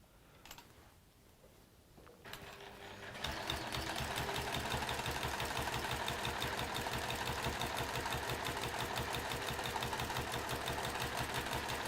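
Sewing a fabric seam, a machine starts after a few soft handling sounds and settles into a steady, rapid, continuous mechanical chatter that runs unbroken to the end.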